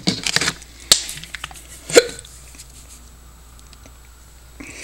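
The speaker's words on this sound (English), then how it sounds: "I got hiccups all of a sudden." A person hiccups several times, sharp sudden gulping bursts spaced about a second apart, close and loud in an otherwise quiet room.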